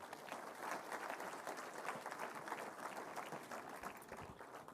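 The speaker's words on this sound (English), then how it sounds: "she and her team deserve a louder round of applause" Audience members at an election management conference in India applaud in a continuous, even patter of clapping that sounds faint and distant for the whole stretch.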